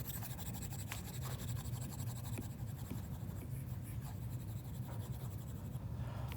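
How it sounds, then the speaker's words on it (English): Eraser rubbed across a classroom board, a steady dry scratchy scrubbing that runs continuously, fairly quiet and close, with no one speaking. "I'm going to erase all this to get it out of the way"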